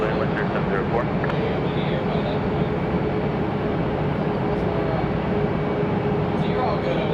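A Southwest airliner takes off from runway 5 right at Raleigh-Durham International, its broadband jet roar loud and steady throughout with faint background chatter.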